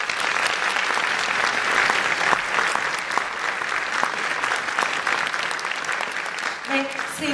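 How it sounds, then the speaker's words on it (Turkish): At a Turkish music concert, the audience claps in a long, even burst of applause that holds steady, then thins near the end as a few faint tones come in. "bir alkış lütfen"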